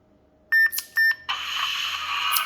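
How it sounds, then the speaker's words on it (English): Two short, bright electronic beeps in quick succession from an all-aluminum DL-44 toy blaster with a Blaster Core 5.0, followed by a sustained hissy electronic blast that fills the rest of the clip. "It's off until you hear the beep"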